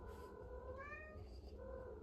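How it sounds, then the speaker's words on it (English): A house cat meows in a drawn-out, rising and falling call near the microphone, with a second shorter meow after it over steady background noise. "that's my cat, Garfy."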